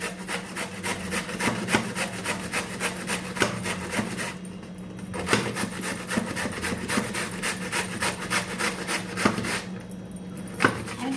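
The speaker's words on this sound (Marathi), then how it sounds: "बघू शकता मी ही जी कैरी आता किसून घेते" Raw green mango rubs rapidly against the large holes of a kitchen grater, making a steady, rhythmic scraping rasp of quick strokes with a couple of short pauses, close and alone.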